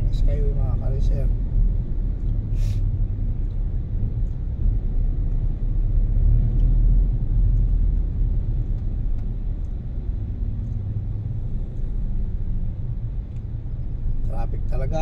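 A car climbing the Skyway elevated expressway in traffic, with a low, steady engine and road rumble throughout and occasional faint clicks.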